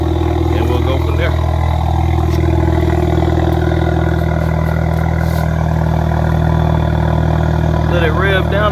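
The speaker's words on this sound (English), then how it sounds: "y'all hear the turbo." Modified exhaust on a 2012 Acura RDX with its turbo engine, a loud steady idling drone with a deep low rumble, and a person talking over it.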